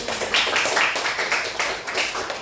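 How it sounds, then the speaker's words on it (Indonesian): Classroom applause for students, a steady, dense patter of many hands clapping at once, fairly loud and continuous throughout. "Beri aplaus dulu untuk teman-teman"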